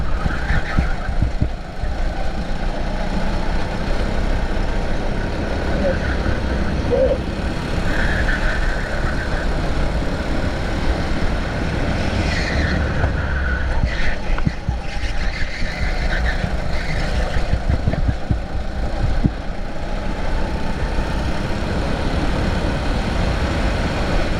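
A race-kart engine drones steadily during a go-karting league race, a loud continuous buzzing whine with slight rises and falls in pitch as the kart laps alone.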